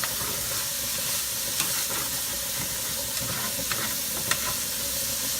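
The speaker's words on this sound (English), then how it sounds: "I'm gonna keep my spatula so I can scrape the bottom" Onions sweat in a pan, giving a steady close hiss and sizzle throughout, with a few faint scrapes of a spatula along the bottom.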